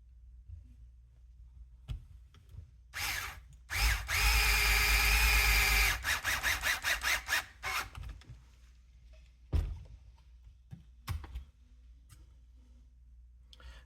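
A power drill backing out a screw on an RC car gearbox: short trigger bursts, then a sustained whine of a few seconds, followed by stuttering pulses and scattered clicks of parts being handled nearby.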